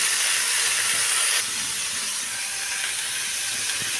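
Potatoes and cauliflower fry in a pan while being stirred together, a loud, steady close-up sizzle and hiss that eases slightly after the first second and a half and then carries on evenly.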